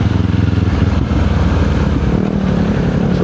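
A Kawasaki Z400 motorcycle fitted with a Yoshimura R77 exhaust rumbles loud and close, a deep, steady idle-like drone with slight pulsing throughout.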